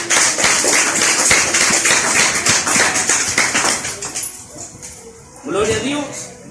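A church congregation claps strongly and rhythmically together in a loud, steady run that fades before a brief voice comes in.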